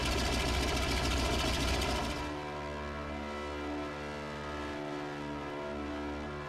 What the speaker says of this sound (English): flying to breakfast in this antique twin engine with one of the best pilots in the entire